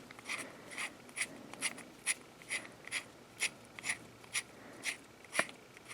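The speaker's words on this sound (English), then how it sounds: "The barrel just presses in. Come on, you can tell there's a lot of threads." A Beretta AR70/90 barrel is worked into its threads with a dozen evenly spaced, sharp metallic clicks and scrapes about every half second. The sounds are close but fairly quiet, with no talking.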